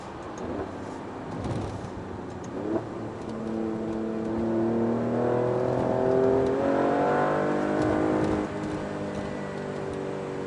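An Alfa Romeo Stelvio QV performance SUV engine pulls hard in a low gear, its rising harmonic drone building steadily and loud, close by, with no talking over it.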